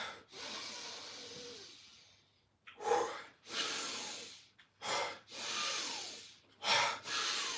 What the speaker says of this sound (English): you're breathing in for longer than you're breathing out, you're going to pump your body full of oxygen